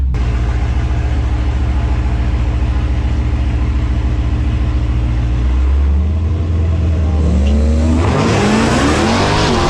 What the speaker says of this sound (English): we're gonna run this turbo Chrysler 300. It's all-wheel drive too.